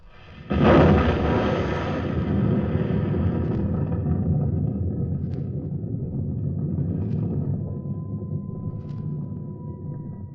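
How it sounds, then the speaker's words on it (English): A sudden heavy blast, then a deep rolling rumble that lingers for many seconds, with no voices. "You'll hear the sound of the explosion any second now."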